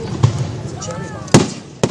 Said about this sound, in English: It's a cherry bomb.